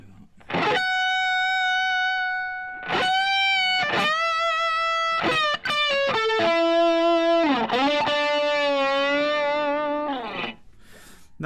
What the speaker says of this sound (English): needing a wee bit more drive, so we're going to do that just now